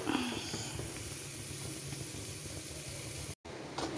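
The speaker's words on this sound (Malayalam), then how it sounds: "ഇനി അതവിടെ ഇരുന്ന് 5-6 പ്രാവശ്യം വിസിലടിച്ച് കൂവി വെന്ത് വരട്ടെ" Steady soft hissing of steam from a pressure cooker cooking tapioca biryani, continuous and fairly faint, with a brief dropout near the end.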